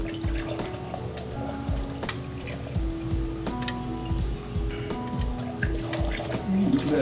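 Thin engine oil glugs and trickles as it pours into the 4.0T engine of an Audi C7 S6, with steady liquid gurgling and soft splashes close up and no talk.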